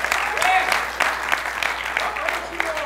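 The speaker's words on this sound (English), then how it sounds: "give the Lord a praise clap if you really believe that in here" A church congregation claps dense and steady in praise during a Sunday sermon, a close, continuous wash of many hands with a few voices mixed in.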